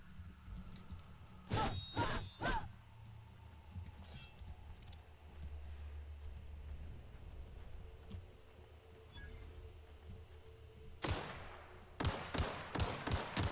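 Video game gunfire in The Outer Worlds comes in sharp, loud clusters of rapid shots, a burst early on and a heavier volley near the end, set against a low ambient hum.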